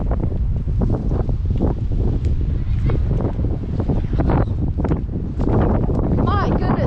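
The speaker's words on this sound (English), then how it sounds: "These are 60-mile-per-hour gusts right now." Strong gusts of around 60 mph roar outdoors outside a store in southern Long Island, a loud continuous buffeting against the microphone with someone talking excitedly over it.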